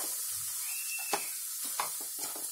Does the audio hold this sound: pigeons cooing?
no